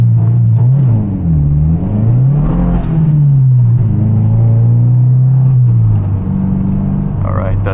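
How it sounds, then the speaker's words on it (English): Subaru WRX accelerating hard from a red light in track mode, a loud close engine drone rising and falling in pitch through the gears, with someone talking over it. "I didn't want to give it too much gas. I didn't really want to spin the wheels"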